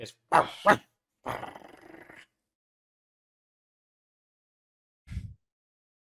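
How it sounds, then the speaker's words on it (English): Dogs bark at the mouth of a cave in a couple of quick, close, gruff bursts, followed by a rougher, growly stretch and, after a pause, one short low woof. "you can hear the dogs barking at the very mouth of the cave"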